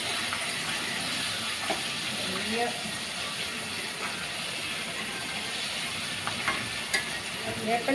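Small fresh fish fry in a pan with a continuous hissing sizzle and occasional spatters and crackles, heard at close range.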